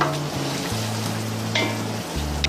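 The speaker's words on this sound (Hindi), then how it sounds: "इसको हम अच्छी तरीके से भूनते रहेंगे" Yogurt frying in oil for haleem, a dense, loud, close sizzle with occasional stirring scrapes and a low hum underneath, no talking.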